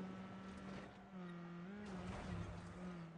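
A car in Watch Dogs 2 stops hard, with a sustained engine drone and a brief skidding squeal of tires rising and falling, heard at low volume.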